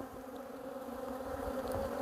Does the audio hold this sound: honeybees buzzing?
yes